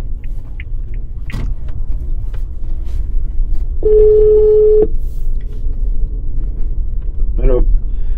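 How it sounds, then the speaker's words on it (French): A phone calls a contact, giving one clear, steady electronic tone that lasts about a second. Low vehicle rumble runs beneath it, with brief faint clicks before and after. "Nous allons appeler le deuxième contact."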